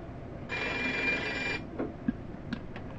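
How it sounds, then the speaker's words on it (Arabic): A gas alarm sounds intermittently: one steady, fairly loud ringing tone lasts about a second and then cuts off, leaving faint room noise and a few soft clicks. "بالنسبة لانذار الغاز هو انذار متقطع، ثانية بيشتغل وثانية بيقف"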